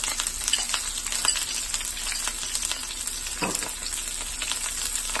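Garlic frying in a pan for a Moroccan fish ball tagine, giving a steady, close sizzle with small crackles and stirring noises throughout, with no talk.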